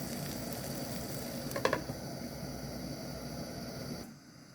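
A Chinese cabbage pancake fries in a pan with a constant, even hiss of sizzling oil, a brief cluster of small pops and crackles in the middle, and the sound dropping lower just before the end.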